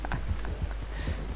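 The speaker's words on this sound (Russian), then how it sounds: "Лошадка труп везет." Horse hooves clip-clop steadily as a horse hauls a corpse in Red Dead Redemption 2, a moderate, even trot of soft thuds over a constant low background.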